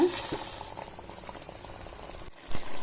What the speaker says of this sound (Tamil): இது வந்து சிம்லேயே ஒரு அஞ்சு நிமிஷம் நல்லா கொதிக்கிட்டோம்